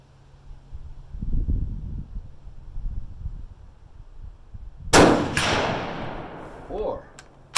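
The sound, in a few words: Berthier carbine firing 8mm Lebel cartridge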